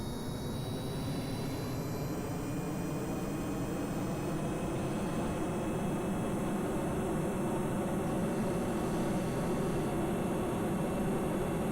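Rocket engine throttled up in Kerbal Space Program during an attempted landing back at base: a constant, dense roaring rush that holds steady and fairly loud the whole time, with a faint high whine over it and no talking.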